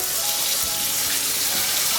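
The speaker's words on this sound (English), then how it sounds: "I like to get that frying down a bit before I get into making the broth." Steady, dense sizzling of Sichuan hotpot base frying in a pan before making the broth, a continuous crackling hiss with no talking, close and fairly loud.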